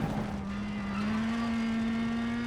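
A Citroen rally car in the eWRC racing game holds a steady, rising engine drone at speed, with a loud, continuous tone that climbs slightly in pitch throughout and has no voices over it.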